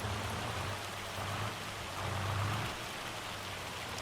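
Steady broadband rain and hail pelt down in Farming Simulator 25 during planting, a dense continuous wash with a low hum of farm machinery beneath, swelling slightly in places, no talking.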